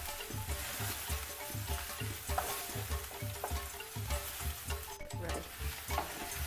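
Onion and garlic fry on medium heat as a vegan jollof base: steady close crackling sizzle with rhythmic stirring scrapes throughout, and a brief spoken word near the end.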